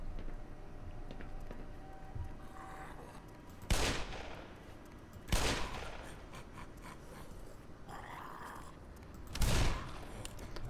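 Gunshots ring out in Black Mesa, a first-person shooter. Three separate sharp bursts are spread over several seconds, with quieter game ambience between them and no talk.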